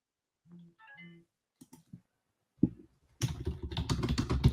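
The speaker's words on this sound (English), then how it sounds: "I'm typing right now." Rapid typing on a computer keyboard, a close flurry of dense clicking keystrokes after a few brief tones and taps, with no one talking.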